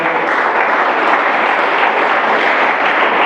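Church congregation applauding during a sermon, a loud, dense, continuous wash of clapping that holds evenly from start to finish.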